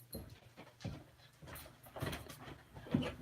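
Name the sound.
sick dog whimpering and panting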